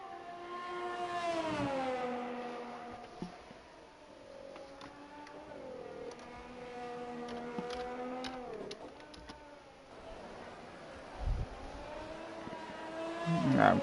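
Formula 1 race car engine from an F1 esports sim race at the French Grand Prix, a steady high-pitched whine rising and falling through gear changes on a hot lap, continuous and fairly close with no voices.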